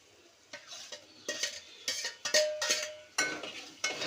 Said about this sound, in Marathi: जरा त्याला परतून घ्यायचं असतं